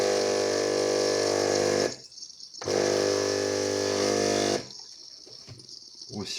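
A Bosch Tassimo CTPM06 coffee machine dispensing water runs with a loud, steady pumping hum in two bursts of about two seconds each, separated by short quiet gaps.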